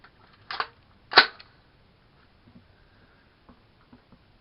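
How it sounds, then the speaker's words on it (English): Two sharp gunshots from a Kel-Tec Sub 2000 9mm carbine at an outdoor range, fired about half a second apart at moderate distance, followed by faint clicks and quiet. "Let's put some rounds on the 7-yard target."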